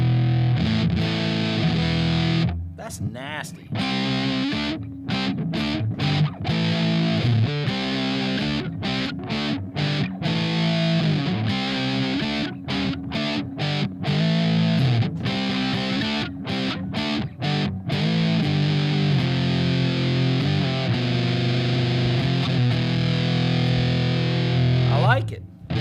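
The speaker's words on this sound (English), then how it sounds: "And then we're gonna go on up with the distortion." An electric guitar played through a distortion effects pedal, a thick, saturated tone with sustained chords and riffs broken by short pauses, loud and close, with a voice briefly speaking between phrases.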